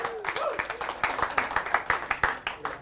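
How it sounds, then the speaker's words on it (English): Applause for comedian Martin Phillips at a stand-up show: a smallish audience claps in distinct, fairly sparse hand claps, close and moderately loud, with a voice cheering briefly over the start. "Big round of applause for Martin Phillips."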